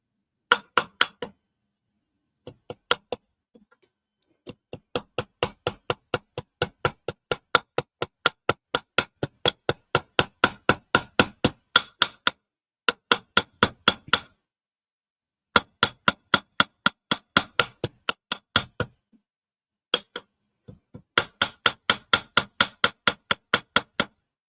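A hammer taps a metal locksport tool in quick, sharp, ringing strikes, grouped into repeated bursts with short pauses between, close and clear with no talk.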